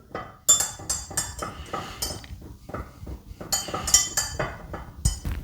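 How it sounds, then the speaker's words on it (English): A spoon stirs a mix of water and dish soap in a container, making repeated close clinks and scrapes against the sides in an uneven rhythm. No one speaks. "So give it a good stir."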